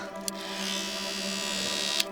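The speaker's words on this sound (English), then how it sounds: "electric shaver" An electric shaver, part of a toiletry kit, buzzes with a loud, steady, close-up drone for about two seconds, with a brief click at the start and end.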